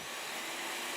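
A robot maid's vacuum cleaner in the video game Genshin Impact, a steady broadband whooshing hum that runs unbroken and fairly loud for the full second.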